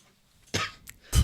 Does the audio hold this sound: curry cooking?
no